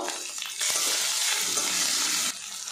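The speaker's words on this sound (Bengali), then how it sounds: "এবারে এর মধ্যে সামান্য একটু জল দিয়ে দেব।" A splash of water hits a hot pan of frying tomato masala for a soybean curry, a sudden loud hissing rush that holds steady for nearly two seconds before cutting off to quieter sizzling, with no talking.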